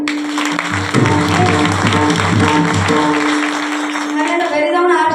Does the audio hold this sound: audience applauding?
yes